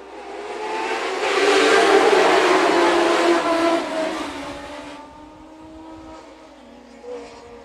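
A pack of dwarf cars roars past at a dirt track raceway, the engine noise building to a loud sustained drone, then fading into the distance, with a smaller engine rise near the end.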